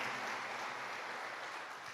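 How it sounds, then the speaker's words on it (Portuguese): A church congregation at a Sunday service applauds, a brief, even wash of many hands clapping together at moderate volume with no voices over it. "Diga amém e aplauda a palavra de Deus."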